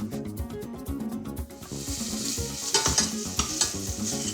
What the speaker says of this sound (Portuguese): Não é necessário fritar a farinheira, só refogá-la lentamente com a cebola e com o alho